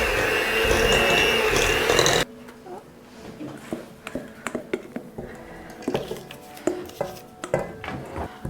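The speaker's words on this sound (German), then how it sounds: "Und warte, das noch ein bisschen rühren." A hand whisk or spoon stirs cake batter of flour and almonds in a bowl: a loud mixing whirr at first, then repeated clinks and scrapes against the bowl in an uneven rhythm, with people talking nearby.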